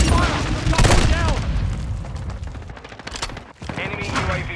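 Gunfire rattles through a Call of Duty: Modern Warfare II multiplayer match, loud dense bursts and booms packed together, with in-game voices calling out over the shooting.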